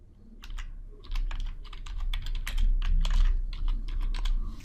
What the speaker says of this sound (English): I'm going to just change the text. I'm going to type in time left.